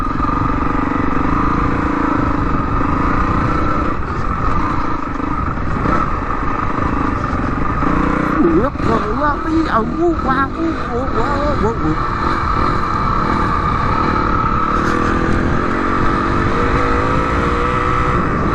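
A motorcycle rides along a rugged trail beside a river in cold weather, its engine droning steadily under constant wind noise while a voice talks over it.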